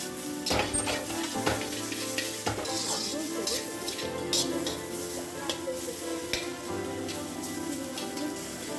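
Restaurant-style mixed fried rice with fish is tossed in a wok. It sizzles continuously while a spatula clinks and scrapes against the metal in uneven, repeated strikes, close up.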